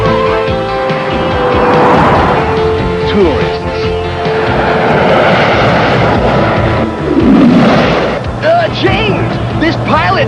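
Harrier jet aircraft roaring overhead in a video game car chase toward a tunnel, a loud sustained engine roar with rising and falling pitch sweeps, mixed with gunfire-like bursts and game music.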